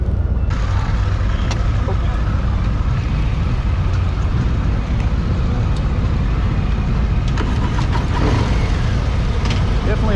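A Harley-Davidson Low Rider S motorcycle with pegs rumbles steadily throughout, a loud low engine drone with wind and road noise on a demo ride, without pause or break.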